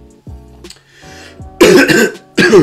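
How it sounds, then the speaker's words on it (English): A few low vocal sounds, then two loud, harsh coughs close to the microphone, separated by a short pause. "you probably get used to me coughing by now."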